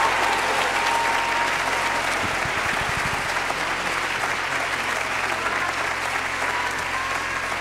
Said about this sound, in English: Give him a hand clap for him.